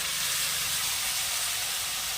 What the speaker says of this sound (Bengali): এবার দিয়ে দেবো সেদ্ধ করা মোচা।